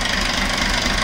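A Massey Ferguson 135 tractor made in England, its diesel engine fitted with a new diesel pump, runs steadily with a dense, even knocking rumble, loud and close.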